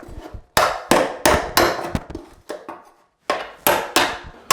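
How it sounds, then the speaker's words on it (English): Sharp, hard metal-on-wood strikes of a hammer driving a crowbar to pry carpet tack strips off a floor, at a steady, brisk pace, with a short pause midway before the banging resumes. "use a flat bar or a crowbar and a hammer just to pry them up off the floor"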